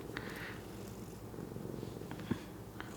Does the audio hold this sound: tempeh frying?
no